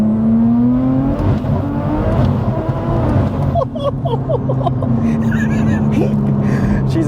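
An 850 bhp BMW M240i pulls hard from inside the cabin, with a loud, droning engine note that climbs in pitch, then a shift and a rising whine. Occupants gasp and talk over it.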